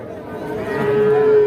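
Calves lowing amid the busy bustle of a crowded livestock market in Bangladesh, one drawn-out moo rising over a steady background of animals and distant crowd chatter.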